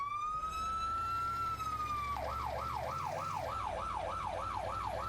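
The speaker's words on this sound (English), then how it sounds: "2 for our siren" A retro fire engine siren in the firefighting game Into the Flames holds a steady high wail, then switches to a rapid, even warble that cycles for several seconds over a low engine rumble.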